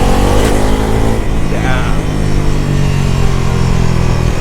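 A Bajaj Pulsar NS400Z street naked motorcycle runs during a ride, with a loud, close engine drone that rises briefly early on and then carries on over steady wind rush, and a voice at times.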